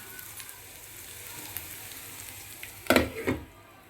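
Indian gooseberries (amla) fry in a pan while being stirred for a chutney, giving a steady crackling hiss, then a louder burst of sizzling and scraping near the end.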